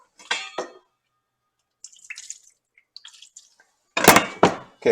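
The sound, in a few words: water splashed onto chicken in a cooking pot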